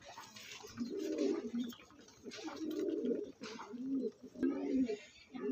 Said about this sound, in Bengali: পায়রাগুলো সব এইখানে আছে দেখুন